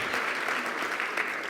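A conference audience gives brief applause to a helper in the front row, a short wash of clapping that ends with one sharp louder clap.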